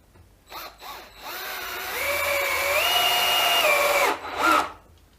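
A Dewalt DCF610 cordless screwdriver drives a 4x60 screw, a couple of short motor bursts followed by a sustained whine that rises in pitch as it runs, then stops, with a final brief burst, nearby and fairly quiet.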